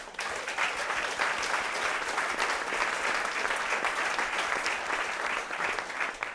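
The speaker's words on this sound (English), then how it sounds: "I would like to give a huge round of applause to Sean C. for running sound for us tonight." Steady, dense applause from a concert audience fills the whole stretch, loud and continuous with no talk over it.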